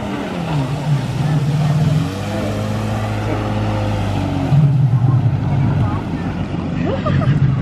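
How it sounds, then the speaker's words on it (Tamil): Speedboat engine droning on the water, a loud steady motor hum with shifting pitch as it revs and settles, close and continuous, with people talking over it. "மேடம் இப்போ ஸ்பீட் போட்டில் போக போகிறாங்க"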